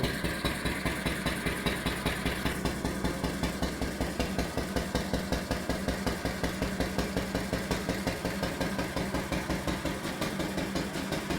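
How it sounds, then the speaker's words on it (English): A Lister G1 stationary engine fitted with a temporary taped exhaust idles steadily, its single-cylinder thump beating at an even, rapid rhythm, loud and close throughout. "So now we can simply come around the front of the engine, flick on the ignition, press the switch, and with a bit of luck, and away it goes."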